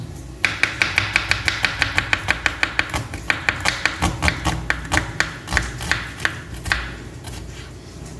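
A knife chops tomatoes on a board in a fast, steady series of close, crisp taps, roughly three per second, slowing and easing off toward the end.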